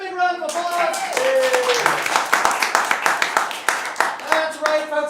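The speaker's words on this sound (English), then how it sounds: "Let's give him a big round of applause" An audience claps at a game-show-style stage showcase, a brisk rhythmic clapping with sharp hand hits, and voices whoop and talk loudly over it.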